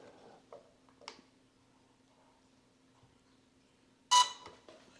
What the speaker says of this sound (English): press and hold the power button for 4 seconds until it beeps